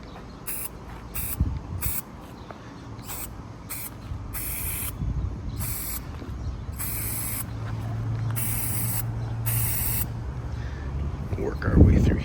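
Light coats of spray paint going onto a bike frame in a DIY custom paint job: a series of short aerosol hisses in irregular bursts, some longer, with a person talking quietly underneath.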